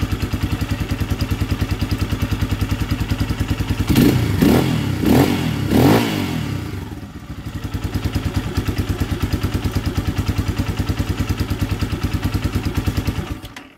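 A KRY 200 motorcycle engine idles steadily with a rapid, even putter, punctuated midway by a few revs and a brief dip before settling back.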